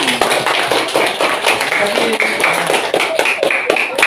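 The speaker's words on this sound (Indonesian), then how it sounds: "tepuk tangan untuk kelompok 1" A classroom full of people claps steadily, a dense patter of hands with voices mixed in.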